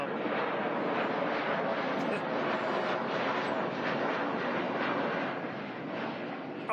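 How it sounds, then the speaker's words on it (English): Steady broadband roar of a fixed-wing airplane passing overhead near a rail bridge groundbreaking site, loud and continuous for several seconds with no break and no voices over it. "Can't we just send the planes to runway 4?"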